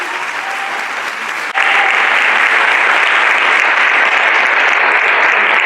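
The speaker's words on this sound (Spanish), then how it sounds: "Un aplauso para ustedes." Audience applause after a presentation on AI in education, starting softer then jumping to loud, dense clapping that continues steadily to the end.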